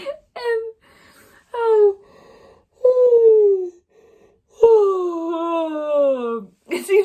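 A person gives several long, drawn-out vocal yawns, each rising and then sliding down into a sighing moan, close and loud, with short pauses between them.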